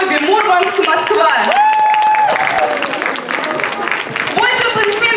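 Festival awards crowd applauding the cosplay photo-art winners, clapping running under loud voices and bright whistles or shouts, fairly close and busy throughout.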